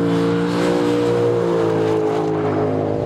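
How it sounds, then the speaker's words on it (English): Lexus RC F with a naturally aspirated 467 hp V8 accelerating on a race track, a steady, loud, sustained engine drone with layered harmonics holding for about three seconds, no voices. "the normally aspirated V8 engine that provides 467 brake horsepower"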